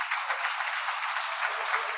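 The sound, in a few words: audience applause at summit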